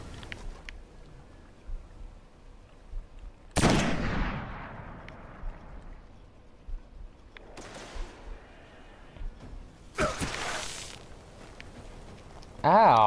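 Gunfire in the video game Destiny arrives as a few loud, separated blasts with decaying tails spread across the stretch, between quieter game ambience and someone talking.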